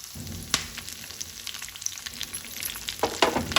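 Garlic and curry leaves crackle and hiss in hot oil in a pan, with a dense, steady sizzle broken by a few sharp clinks and scrapes as a spoon stirs them.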